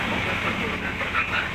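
Argo Merbabu passenger train on the Semarang to Jakarta run, a steady loud rumble and hiss of wheels on rails heard from inside, continuous with no breaks.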